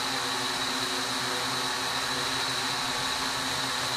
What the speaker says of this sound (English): Just kind of getting the propellers going here. Alright, I'm just gonna let it idle here.